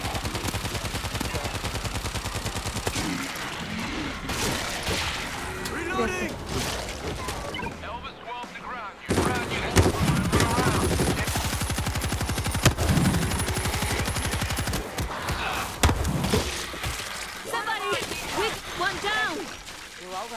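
Dense game gunfire in the zombie shooter World War Z, New York chapter: rapid automatic bursts and sharp shots rattle almost nonstop, loud and close, with a short lull midway, while players talk over the action.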